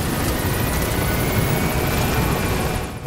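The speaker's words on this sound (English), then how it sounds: "now we've reached our destination, so we'll go ahead and disembark" A helicopter lands in the video game Metal Gear Solid V: The Phantom Pain, its loud, dense rotor and engine roar filling the scene steadily before easing slightly at the very end.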